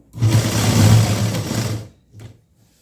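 A sewing machine runs in one steady burst of stitching along the folded edge of blouse lining cloth, stops, then whirs briefly again, close and fairly loud with no talk.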